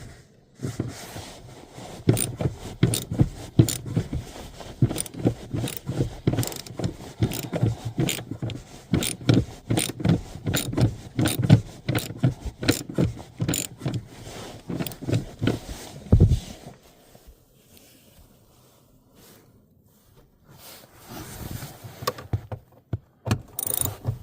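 Torx bolts on a 2011 Chevrolet Malibu seat are worked loose with a size 50 Torx bit, giving a long run of rapid ratcheting clicks and metallic scrapes close by. A short quiet gap follows, then a few more clicks.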